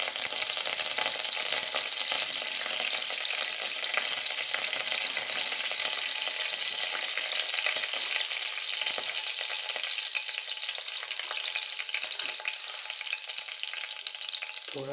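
Curry leaves and spices, including asafoetida, sizzle steadily in hot oil while sambar is made, a loud, continuous close-up frying crackle that softens slightly toward the end.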